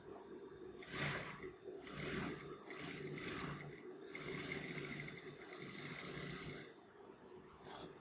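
A sewing machine stitches the neckline of a lined kurti, running in several steady bursts with short pauses between them, close and fairly quiet, and no voices.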